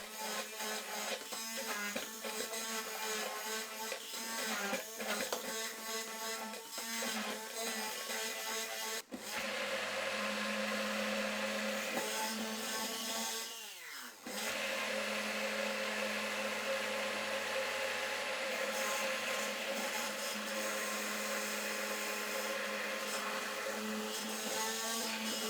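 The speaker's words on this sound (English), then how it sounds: "Blend until smooth." Kitchen blender puréeing garlic, cilantro, culantro, bird's eye chilies and lime juice, a steady loud motor whir that cuts out briefly and then resumes at a constant drone.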